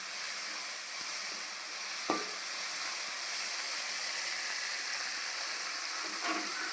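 Okra (ladies finger) sautéing in oil for tamarind kuzhambu, a continuous bright sizzle and hiss close by, with a couple of brief stirring scrapes and no talk.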